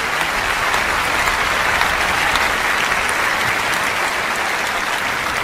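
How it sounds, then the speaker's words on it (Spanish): A congregation at an evangelical church service breaks into loud, continuous applause, an even, unbroken roar of clapping that stays at full strength throughout. "Denle un aplauso grandioso al Señor de señores por esa lámpara encendida."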